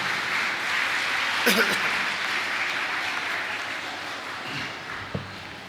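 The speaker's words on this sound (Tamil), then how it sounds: "அருமை தம்பி அலெக்ஸ் அவர்களை ஒரு பலமான கைத்தட்டலோடு வருக வருக என அழைக்கிறேன்." An audience at a Tamil debate event (patti mandram) held at a school claps to welcome a speaker to the stage, a moderate wash of applause that swells early, then gradually thins out, with a couple of sharper knocks along the way.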